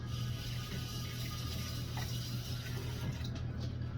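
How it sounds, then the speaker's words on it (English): Tap water running into a kitchen sink while hands are washed, a steady close rushing flow with faint splashes and shifts, no talking. "let me wash my hands here"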